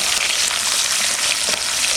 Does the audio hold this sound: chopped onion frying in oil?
yes